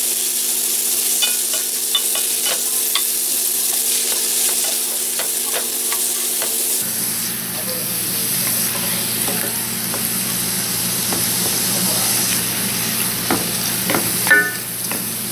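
Ground beef browns in a cast iron pan with a steady, close sizzle and frying hiss, broken by occasional scraping stirs and small pops throughout.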